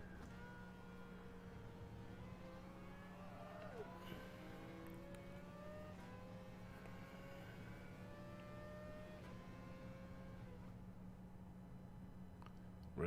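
Simulated car engine from the racing game Gran Turismo, a steady droning whine with pitch sweeping up and down as gears shift, running continuously at moderate level.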